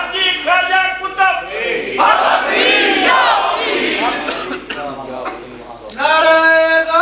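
Large religious gathering in Sahiwal, with a crowd loudly chanting slogans in unison, voices swelling and overlapping in a dense, roaring mass close to the listener.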